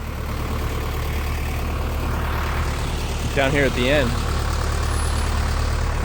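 A loud truck rumbles past outdoors near a fancy event tent, a steady heavy engine drone that fills the whole clip while a person speaks briefly over it.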